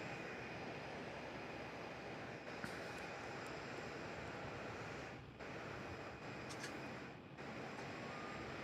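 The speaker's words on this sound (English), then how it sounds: "we're having too much fun watching this Emirates 380" An Emirates Airbus A380 at Melbourne Airport gives off a steady, distant engine rumble and broad jet roar, moderately faint, with wind-like noise and brief dips in level.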